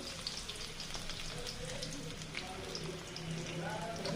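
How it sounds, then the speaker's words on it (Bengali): Chopped onions sizzling in hot oil while a fish-and-tomato curry is cooked, a soft continuous crackle heard close but quiet, with faint voices in the background. "পেঁয়াজ কুচি দিয়ে দিলাম, গরম হয়ে গেছে।"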